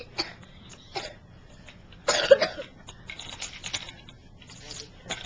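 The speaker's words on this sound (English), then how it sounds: "You were coughing in that one." A small child in a Santa hat coughs in a few short, breathy bursts, with a louder cluster in the middle, close to the microphone in a quiet room, with little else around.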